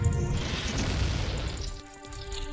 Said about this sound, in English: Oh, and double bomb drop there.